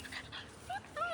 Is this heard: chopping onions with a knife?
no